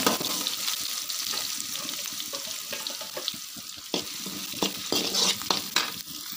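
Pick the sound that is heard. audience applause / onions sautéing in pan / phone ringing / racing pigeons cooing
onions sautéing in pan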